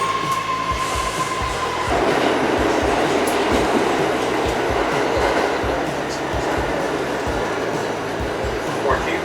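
A New York City subway train rumbles steadily into a dark station, a loud continuous roar with rhythmic wheel clatter and a brief high tone fading early.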